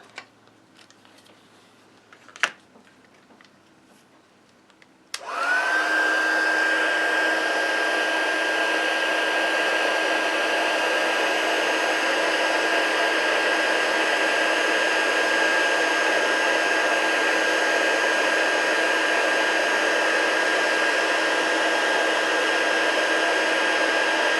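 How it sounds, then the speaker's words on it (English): A heat tool switches on after a few faint taps and blows hot air steadily over card paper, a loud, constant whooshing drone with a thin high whine that runs alone to the end. "Bring in the heat tool."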